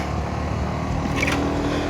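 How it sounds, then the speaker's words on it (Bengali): Motorcycle engine drone heard while riding on a road, a steady near hum with wind buffeting and a brief rise in pitch midway, no voices. "বাইকের নয়েজ তো একটু রাখাই যায়।"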